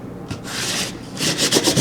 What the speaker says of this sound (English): And give it a good rub.